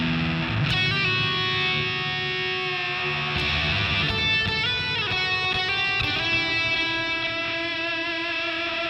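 Heavily distorted electric guitar chords played through a fuzz pedal ring out with thick fuzz and long sustain, new strums struck every second or two.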